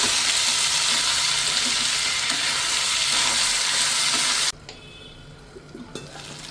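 Tomatoes and drumstick sautéing for a mutton gravy, with loud, dense, steady sizzling close by that drops sharply to a faint simmer with a few small pops near the end.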